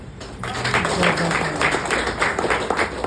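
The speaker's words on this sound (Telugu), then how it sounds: "నాకేం చప్పట్లు కొడతారు" An audience claps in a steady patter of many hands, loud and close, with a voice speaking faintly underneath.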